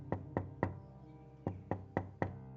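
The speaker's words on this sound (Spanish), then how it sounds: "fui despertado de mi pequeña siesta por alguien llamando a mi puerta" Seven sharp, hollow knocks on a wooden door, struck in two quick groups of three and four, close and clear with nothing else around them.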